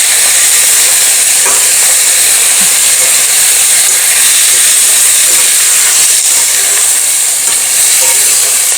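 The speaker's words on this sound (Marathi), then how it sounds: "आता आपण यामध्ये धुवून घेतलेलं चिकन घालूयात" Washed chicken is added to hot oil over fried onions for a Konkani chicken curry, giving a loud, constant close sizzling hiss with no talking.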